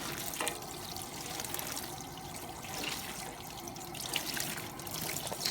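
Tap water runs steadily over a knife and sponge during rinsing, a soft continuous splashing trickle with faint scrubbing movements throughout, close by and without speech.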